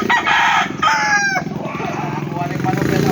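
A backyard rooster lets out one loud, close cock-a-doodle-doo, followed by lower clucking and farmyard noise.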